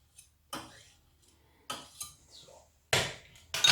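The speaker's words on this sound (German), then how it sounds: "So, nochmal umrühren." A spoon scrapes and clinks against a pot while horseradish sauce with butter is stirred, several short separated bursts of metallic scraping with quiet gaps between them, close and moderately loud.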